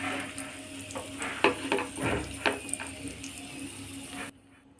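Cashews and raisins fry in hot ghee in a pan, a steady close sizzle broken by scraping stirs and crackling pops, then cutting off abruptly near the end.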